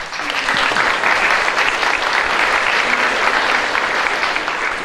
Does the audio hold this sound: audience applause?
yes